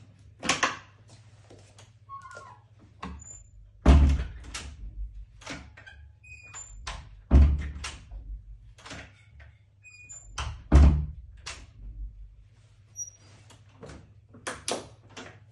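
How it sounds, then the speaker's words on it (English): Doors thump and click shut again and again in uneven bursts, with several louder slams standing out between quieter latches and handle rattles, close by and with no talk. "the second thing I used to do was opening and closing the doors again and again"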